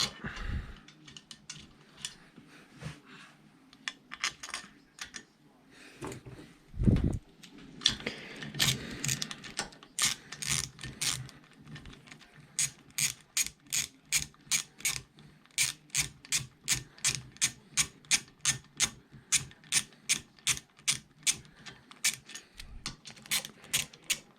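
Ratchet tightening intake manifold bolts on a Mini Cooper R50 during an R53 manifold install, heard as rapid repeated clicking bursts, close and fairly loud, with some clunks of handling between runs.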